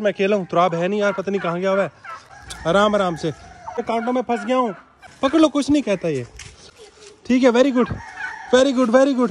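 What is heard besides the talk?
turkey gobbling while being caught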